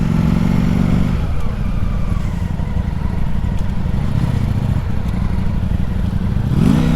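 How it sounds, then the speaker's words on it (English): A Ducati Streetfighter motorcycle rides past in a car park at Skegness, its loud engine roaring steadily up close with clattering and rising revs, while another motorcycle engine runs nearby. "Look at that beautiful Ducati Street Fighter."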